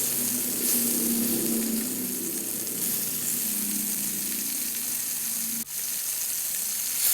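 Pieces of neimeen karuvadu dry fish frying in hot oil give off a steady, close hiss and sizzle, broken by a brief knock as the pieces are flipped.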